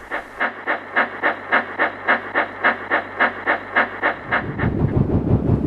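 A steam locomotive, the cartoon tank engine Thomas, puffs away in an even run of about fifteen sharp chuffs, each with a breathy hiss. The chuffs fade into a rougher, busier chugging at the end, with no one speaking.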